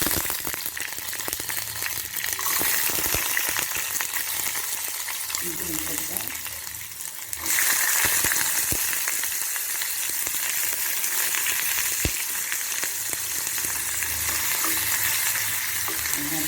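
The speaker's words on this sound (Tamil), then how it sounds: "வெங்காயம் தக்காளி வதக்கிறதுக்கு கொஞ்சமாக எண்ணெய் ஊற்றி எண்ணெய் காஞ்சிட்டு நார்மலாக போட்டு" Onions sautéing in a little hot oil in a pan for street-style chutney, a loud, continuous close sizzle with occasional stirring scrapes and clicks.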